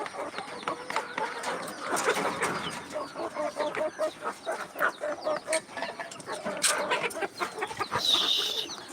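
Chickens cluck steadily and close by as they peck at cooked rice in a backyard, with the short calls bunched in a loose, rhythmic run and a brief higher squawk near the end.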